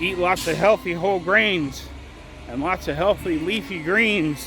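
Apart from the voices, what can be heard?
No distinct noise like a dog, phone or traffic.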